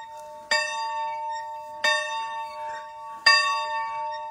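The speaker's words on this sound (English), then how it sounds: "Let me hold the device and you ring the bell." A bell is rung by hand, giving three evenly spaced bright strikes, each leaving a long shimmering ring that fades before the next, clear and fairly close with no voices.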